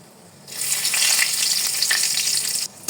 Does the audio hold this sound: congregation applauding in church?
no